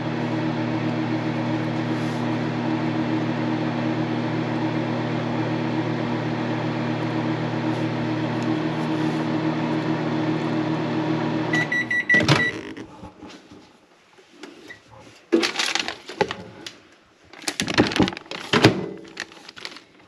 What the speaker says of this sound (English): it's in the microwave for 30 seconds